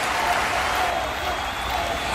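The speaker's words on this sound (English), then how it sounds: "the crowd here at WrestleMania is electric." WrestleMania 24 arena crowd during an Undertaker match, a dense, steady wash of applause and cheering filling the whole moment with no breaks.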